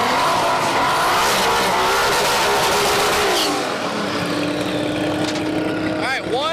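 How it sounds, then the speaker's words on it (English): A twin-engine Volkswagen drag car with turbo roars loudly through a burnout, the engine note holding high then dropping as tires squeal, with a brief rising whine near the end. "1 of 2 burnouts down."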